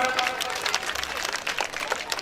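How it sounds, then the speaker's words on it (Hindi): At a school prize distribution ceremony, an audience applauds a student prize winner with dense, steady clapping throughout, while voices murmur under it. "जी, जोरदार तालियों से स्वागत।"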